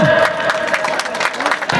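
Scattered clapping and cheering from a community gathering of residents for the RW 06 neighbourhood group, short and moderately loud, with murmurs of a crowd throughout.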